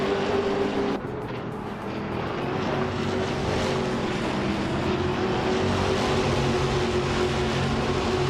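A Ford Mustang Trans Am race car in a racing game holds a steady, loud engine drone, with a brief dip near the start before the sustained roar resumes.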